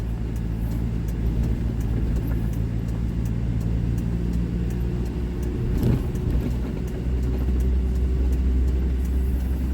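A manual car on a public road during a first-class licence road test on a course with a hill: a steady interior engine drone and low road rumble. Faint regular ticking, like a turn signal, runs over it with one brief swell midway.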